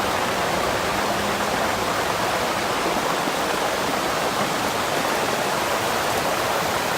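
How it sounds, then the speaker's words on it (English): After heavy rain in Bangor, water rushes down State Street in a steady, dense roar, with no speech, continuous and unbroken for the whole stretch. "the sound of the water rushing down State Street"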